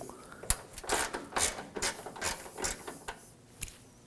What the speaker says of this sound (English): We're gonna remove that 10mm bolt using the same tool.